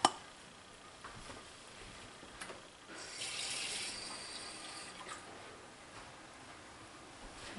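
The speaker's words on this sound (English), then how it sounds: "And I'm just going to rinse the bowl out." Water runs from a tap to rinse out a mixing bowl in a kitchen sink during homemade coconut oil detergent making, a steady faint splashing that swells louder for about a second midway, with no talking.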